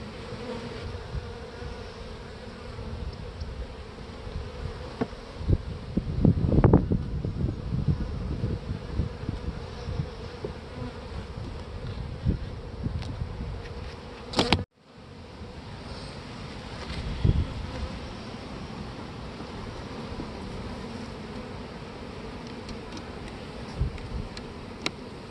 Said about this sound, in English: because I have the queen in this hive